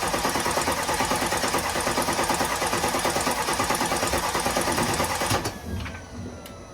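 The 4.2 FSI V8 of an Audi A8 D4 runs after reassembly from repair with a close, steady mechanical chatter. The even rhythm drops off to a quieter level near the end.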